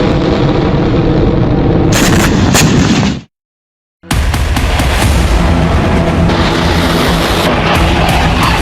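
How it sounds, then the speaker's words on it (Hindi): Launch of an Israeli Arrow 3 air defence missile: a loud, continuous roaring blast with rumbling booms, cut by a brief silence before the heavy roar resumes and carries on. "इजरायली एयर डिफेंस सिस्टम ने इस तरह एरो 3 मिसाइल फायर की"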